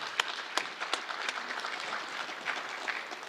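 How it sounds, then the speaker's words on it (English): A faint round of applause for the speakers at a nurses' community event, soft scattered claps with a few sharper ones standing out, distant and thin, no voices over it. "I think we can give a round of applause for the folks that spoke on that."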